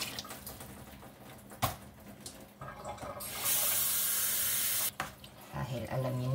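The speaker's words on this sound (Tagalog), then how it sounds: "Lagyan na natin siya ng sabaw." Tap water runs in a steady hiss into a cooking pot to make broth for chicken tinola, a continuous stream lasting a couple of seconds, with clatter before it and speech around it.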